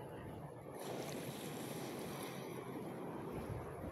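Strong wind blows across a calm sea along a Philippine shoreline, a steady, close roar of microphone buffeting over faint lapping water, with no voices throughout.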